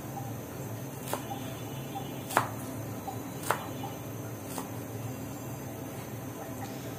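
Fresh coriander leaves are chopped with a knife, heard as about four soft, separate taps on a board spaced roughly a second apart, quiet against a steady background hiss.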